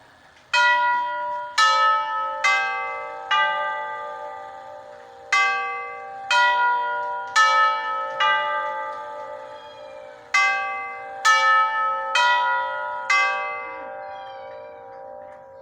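A grandfather clock chime melody plays in clear, resonant bell tones, a series of struck notes in a steady pattern with ringing decay, close and fairly loud.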